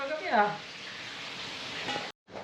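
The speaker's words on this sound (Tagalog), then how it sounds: "Piniprito pa ni Boss Mario." Food fries in a pan while papaitan is prepared, a continuous soft sizzle running from start to finish, with a brief voice-like sound near the start and a short cut-out near the end.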